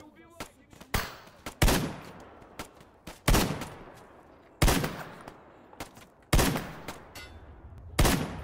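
Rifle fire from World War One style sniping in a swamp battlefield video game: about eight sharp, loud shots at irregular intervals, each followed by a short echoing tail, with faint background battle noise in between.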